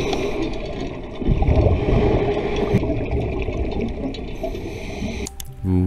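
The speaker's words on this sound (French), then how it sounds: "c'est un son de chaîne en fait qui glisse" A continuous underwater rumble and grinding rush of an anchor chain dragging and sliding, steady throughout with a brief clattering burst near the end.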